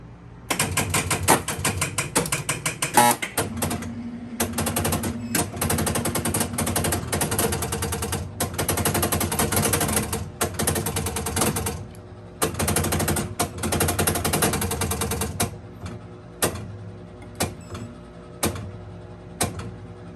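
A Midway Deluxe Shooting Gallery arcade machine runs after a coin is inserted, with loud, rapid mechanical clattering and rattling bursts, brief pauses, then scattered single clicks toward the end.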